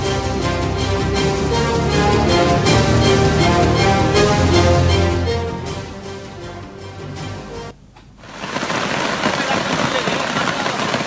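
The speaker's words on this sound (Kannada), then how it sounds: "ಮಂಗಳೂರಲ್ಲಿ ಎಡೆಬಿಡದೆ ಧಾರಾಕಾರವಾಗಿ ಮಳೆ ಸುರಿತಾ ಇದೆ." A tonal background fades away, then heavy monsoon rain in Mangaluru pours down with a steady, dense hiss for a few seconds.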